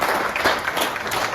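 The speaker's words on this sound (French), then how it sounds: "On applaudit très fort" Brief burst of audience applause at a cultural awards event, dense clapping from a small crowd, close and fairly loud, lasting only a moment with no talk.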